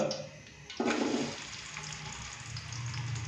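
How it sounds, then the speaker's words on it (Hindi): Finely chopped onions drop into hot ghee with a sudden loud hiss, settling into a steady, softer sizzle up close. "अभी मैं इसके अंदर नॉर्मल साइज के 2 से 3 अदद प्याज बारीक कट किए हुए डालूंगा।"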